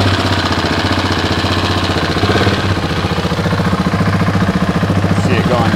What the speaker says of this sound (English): then I just start the engine, let it run, circulate the oil through the system